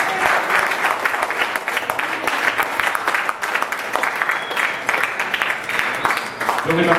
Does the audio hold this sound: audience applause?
yes